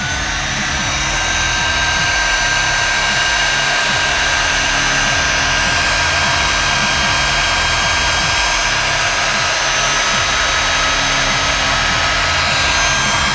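A heat gun warms the casing of a double-shielded PWM control cable for a CNC system, giving a loud, steady blowing roar that runs unbroken from start to finish with no talking.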